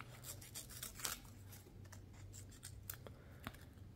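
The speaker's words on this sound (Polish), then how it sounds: "jak zaczniecie sobie przycinać, to nożyczki z automatu sobie przycinają" Leatherman Wave Plus multitool scissors snipping repeatedly, a close series of sharp metallic cuts and scraping blade strokes at an uneven rhythm.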